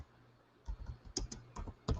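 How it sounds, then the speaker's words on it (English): Keys clatter on a computer keyboard in short bursts of quick taps with brief pauses, close and fairly quiet, with no talking. "I don't know why I'm typing a response."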